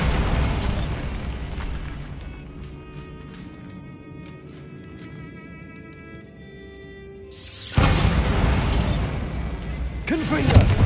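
The Bombarda explosion spell in Hogwarts Legacy, a loud booming blast with a rumbling tail that settles into a quieter stretch before another heavy burst erupts.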